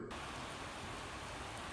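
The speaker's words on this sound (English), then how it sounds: "it's pretty much rained all day today, so we're getting some nice rain" Steady rain falling outdoors, a dense continuous hiss of drops that stays even and unbroken for the whole short stretch.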